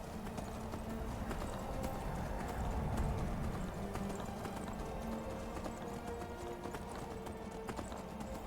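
Horse hooves gallop in Skyrim, a steady rapid clip-clop over ambient game music, with a brief whinny in the mix and moderate loudness throughout.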